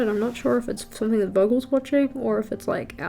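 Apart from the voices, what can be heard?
None of the usual background noises is heard.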